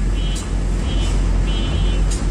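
A 1998 Tofaş 1.6 SLX with a 70 horsepower engine drives along with a loud, steady engine and road roar inside the cabin, broken by a few brief bumps and whooshes.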